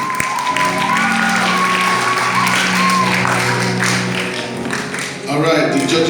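An audience at a church Bible recitation competition claps and cheers, with sustained applause over a steady tone and some voices mixed in.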